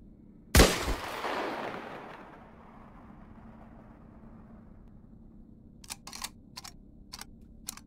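One loud, sharp sniper rifle shot in the battle royale game Islands of Nyne, its report trailing off into a long echo, followed later by a few quick clicking bursts.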